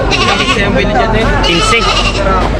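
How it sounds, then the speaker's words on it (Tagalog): Goats or sheep bleating continuously at a crowded livestock market, loud overlapping calls mixed with the steady noise of people talking nearby. "Kambing ba to tupa?"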